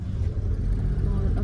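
Steady low rumble of dense road traffic at night in the Dampa area, cars droning and passing continuously nearby with no clear gaps, heard from inside a moving vehicle.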